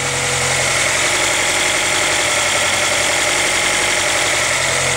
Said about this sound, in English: the idle is fluctuating a little bit